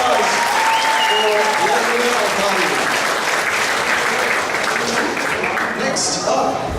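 Steady, loud audience applause fills a hall during an anime convention costume contest, a dense crowd clapping continuously with scattered voices underneath.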